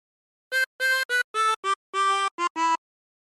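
A 24-hole tremolo harmonica plays a short melody of eight separate notes from Joy to the World, bright and reedy, with brief gaps between phrases and no voices.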